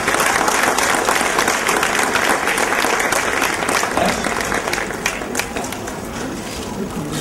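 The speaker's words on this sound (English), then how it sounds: "let us give a big round of applause to the teachers who take care of our children actually" Sustained audience applause for teachers at a school annual day in Hyderabad, dense and steady clapping that gradually thins and softens toward the end.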